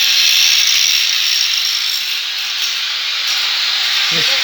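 Steady turbocharger hiss from a Toyota Rocky 195 truck, a continuous bright airy rush held at even loudness throughout, with a faint low knock near the end.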